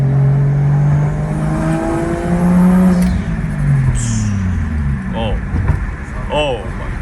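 A 1JZ-GTE-swapped Lexus IS300 heard from inside on a ride along, its engine droning loud and steady with rising rev sweeps and turbo spool, while voices talk over it.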